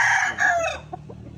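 A gamefowl rooster crows once nearby, loud and strained, the call trailing off into a few softer clucks.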